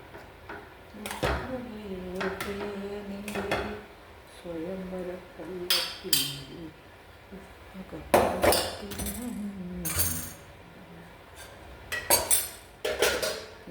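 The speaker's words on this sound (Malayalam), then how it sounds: "ഇനി നമുക്ക് അവിയൽ വിളമ്പാം അവിയൽ" A spoon scrapes and clinks against a metal pot while avial is served, producing repeated sharp utensil knocks in irregular bursts, with a voice talking in between.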